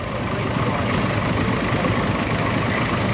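A vintage tractor idles in the show ring at the Great Dorset Steam Fair, a steady low rumbling engine with outdoor crowd noise and a hint of voices mixed in.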